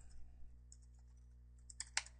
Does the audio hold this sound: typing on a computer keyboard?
yes